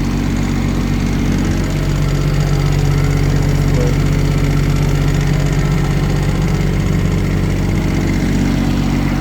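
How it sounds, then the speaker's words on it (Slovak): Macao CT17 Pro tracked carrier with extendable undercarriage and a Kubota engine runs at a steady, loud idle, a continuous droning hum close by with no talk. "Makao CT17 Pro, rozťahovateľným podvozkom a motorom Kubota"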